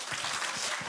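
A congregation at a Friday evening church service claps for its worship leaders and musicians, a steady, dense burst of applause that fills the room for about a second.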